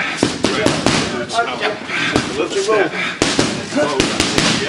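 Sharp pad strikes from body shots and jabs crack out at an irregular pace during a boxing pad session with a boxer, mixed with loud coaching voices and grunts between the hits.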